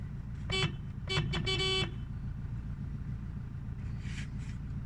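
Three short car horn honks, one brief and then two more in quick succession, over a low rumbling background.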